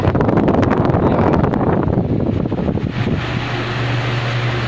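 A repaired electric fan spins at speed with a strong, loud, steady whooshing rush of air and a low motor hum settling toward the end.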